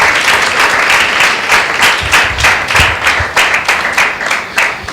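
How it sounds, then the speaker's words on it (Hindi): Loud applause from a church congregation at a Sunday meeting, a close, energetic wash of many clapping hands with some rhythmic unison claps standing out, sustained for about five seconds. "आइए उस परमेश्वर के लिए एक जोरदार ताली हो जाए।"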